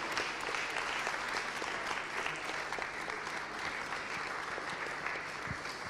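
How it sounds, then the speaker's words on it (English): Church congregation applauding during a Sunday service, a steady wash of many hands clapping at moderate distance, even in level throughout with no talk. "Let's give Luke a round of applause whilst he's doing that."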